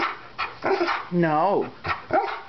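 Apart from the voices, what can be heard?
dog barking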